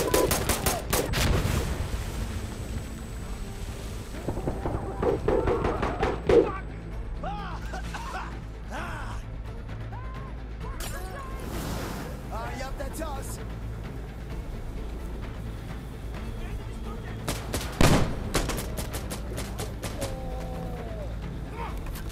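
A gunship fires in the video game Insurgency: heavy bursts of gunfire crack out in clusters early and again near the end, with quieter mechanical noise and occasional voices in between.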